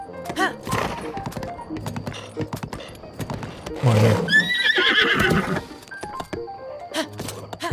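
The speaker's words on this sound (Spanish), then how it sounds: "Se va a poner nervioso el caballo," A horse in the video game Zelda Breath of the Wild neighs in a loud, rising whinny near the middle, set among game effects and thuds, with someone talking at the start.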